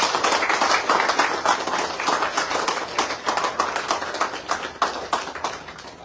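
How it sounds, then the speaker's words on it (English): Ministry staff at a Works Services Group meeting clap together, a crisp patter of many individual hand claps that starts strong and gradually thins and softens over several seconds. "So let's give ourselves a big round of applause."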